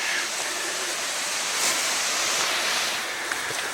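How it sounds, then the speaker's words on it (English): A tributary of Catsuxis Creek near the west end of the E&N Railway's Beaufort Slope rushes steadily, a broad, even wash of flowing water heard close with no voices. "Here's the sound of one of the Catsuxis Creek tributaries."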